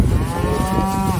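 A cow on a cattle farm lets out a single loud, drawn-out moo close by, a wavering tonal bellow lasting about a second over faint background noise.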